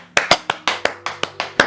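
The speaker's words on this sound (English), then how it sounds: "Can we have a hand of applause?" A small group on a studio set claps for a pregnant woman, giving about nine distinct, close, crisp claps in a fairly steady rhythm rather than a full crowd roar.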